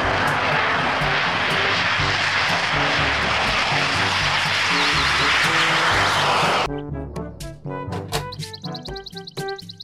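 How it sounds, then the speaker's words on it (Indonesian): A fighter jet's engine roars loud and steady for about seven seconds, then cuts off abruptly, giving way to a voice with music. "Pesawat jet tempur."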